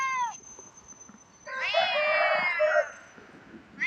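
A cat gives a short meow, then after a pause a longer, louder strained drawn-out cry up close, with a brief third call starting at the end; faint background noise between.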